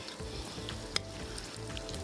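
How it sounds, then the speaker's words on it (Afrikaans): Chicken wings for Korean-style fried wings cooking in hot oil, a faint steady sizzle and bubbling with a soft crackle, heard alone without talk. "Hulle borrel. Dit wys my olie is besig om warm te word"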